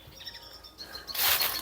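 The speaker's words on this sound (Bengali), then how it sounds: "ওই পাখিগুলো এসছে, ভয় দেখাচ্ছে ওকে।" Small local birds mob an owl in the woods, calling in faint, repeated high chirps, then a brief louder rustling burst at the end.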